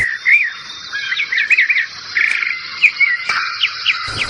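Small birds call around a flowering tarumã tree in the Brazilian Pantanal. Quick, bright chirps and trills come in scattered bursts over a quiet outdoor background, close and clear, with no voices.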